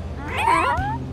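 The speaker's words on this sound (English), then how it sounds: "Come on, kitties, make room for Robo-Dog." Cartoon kittens meow in a single drawn-out, rising and falling cry lasting about a second, fairly loud and close over a low steady background hum.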